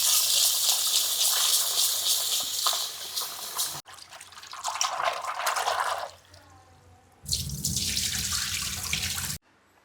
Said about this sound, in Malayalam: കട്ട് ചെയ്ത വാഴപ്പോള നല്ലോണം കഴുകി എടുക്കാട്ട.